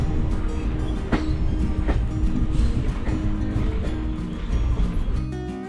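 Train travelling towards Panvel on a Mumbai-area line, with a steady loud rumble of wheels on rails and periodic clicks from rail joints, continuous and close throughout.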